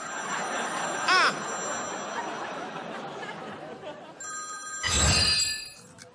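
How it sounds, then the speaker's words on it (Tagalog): A telephone rings in a household, with a short electronic ring early and another burst later, while people talk and chatter nearby. "Rogelio, nagre-ring yung telepono."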